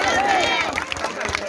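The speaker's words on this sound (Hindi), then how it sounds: "तालियां बजाइए।" Crowd clapping at the installation of a statue of Kanshi Ram in Bahadur Nagar, dense applause mixed with voices and hubbub, fairly loud and close.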